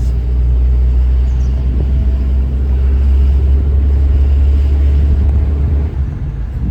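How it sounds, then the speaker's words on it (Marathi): A car engine rumbles loudly and steadily nearby, a deep continuous drone that fades slightly at the end. "बघा ना गाडी जाते."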